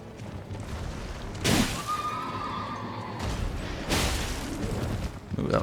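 A horse neighs in the video game Elden Ring, two loud whinnying bursts rising over continuous game noise, with faint clatter and whooshes of combat around them.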